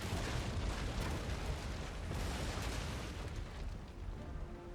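Naval cannon fire in Napoleon Total War strikes an enemy ship, making a continuous rumbling barrage of booms and crashes that stays steady and fairly loud throughout.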